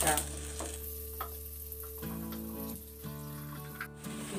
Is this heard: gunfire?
no